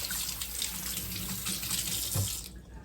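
A kitchen faucet runs steadily as hands are rinsed beneath it, a close, full splashing rush of water that stays constant before dropping away at the very end.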